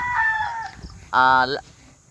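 Roosters at a newly built backyard game fowl farm, two loud nearby crows in quick succession, one rising call then a sustained second crow, with faint clucking in between.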